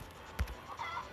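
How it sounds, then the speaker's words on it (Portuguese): A short electronic chicken cluck from the Game Boy Advance game Harvest Moon: Friends of Mineral Town, one quick soft cluck followed by faint game tones. "É o som de galinha, mano"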